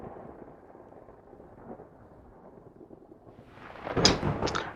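A thunder sound effect played during a Curse of Strahd tabletop role-playing session: a faint, low rolling rumble that swells into a louder, sharper crack and crash at the end.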